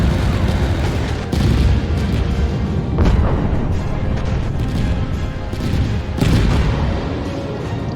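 Plasma turret shots in the video game Mecha Knights: Nightmare, rapid heavy booming blasts firing in quick succession over a dense, loud rumbling background.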